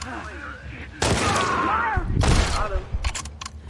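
Gunfire in The Last of Us Part II: sharp shots and short bursts ring out amid game sounds, under a player talking.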